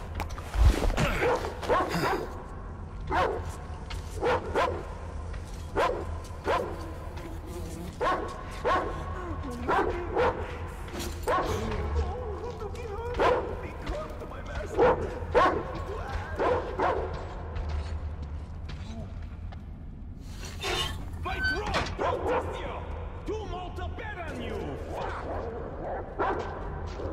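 A dog barks and yips repeatedly in Metro Exodus, the bursts irregular and mixed with creaking mechanical game sounds and some faint voice.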